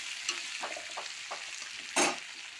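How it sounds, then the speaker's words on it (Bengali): Pumpkin, potato and onion fry softly in a pan, a quiet steady sizzle broken by a few light stirring scrapes and one sharper burst near the end. "কুমড়ো আলুটা দিয়ে দিলাম, একটু ভেজে নেব।"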